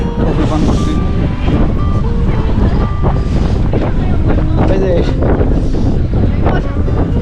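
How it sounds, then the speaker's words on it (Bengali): Strong cold wind outdoors in Florence, roaring and buffeting against the microphone as a constant loud rumble, with a person's voice faintly under it. "এত বেশি ঠান্ডা বাতাস ছাড়তেছে"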